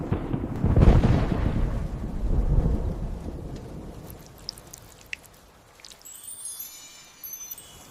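A deep rumble of thunder rolls in loud at the start and fades over several seconds into softer rain and wind, with scattered light drips and a faint high tinkling toward the end.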